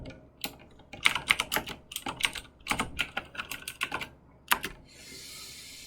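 Rapid bursts of computer keyboard typing during a live math lecture stream, clicking in quick uneven clusters close to the mic, with a soft hiss of room noise at the end and no talking.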